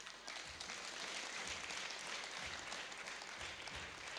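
Church congregation clapping together, a dense continuous patter of many hands heard faintly from across the hall, with soft rhythmic thumps running underneath.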